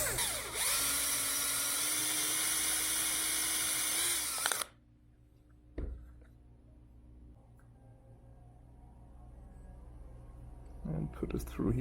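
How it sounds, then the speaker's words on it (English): A small power drill bores a hole into an acoustic guitar to fit a ground wire, whining loudly and steadily for several seconds before cutting off abruptly, followed by quiet room noise, a brief knock and faint shuffling. "I want to drill a little hole in here"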